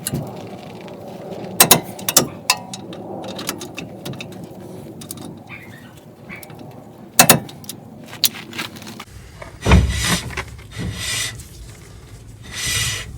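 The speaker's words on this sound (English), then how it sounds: "I'm going to torque them in place now" Metal clicks, ratcheting and rubbing as a torque wrench snugs brake caliper bolts to 129 foot-pounds on a 2000 GMC Sierra SLE, with a few sharp clacks among quieter mechanical scraping; no talking.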